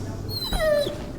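A dog in a firefighting simulator game gives a single short, high whimper, close and clear over a low steady background hum.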